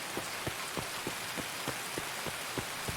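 Steady rain falls in the video game Escape from Tarkov, a dense, continuous hiss with soft, evenly spaced drip-like taps, with no voices.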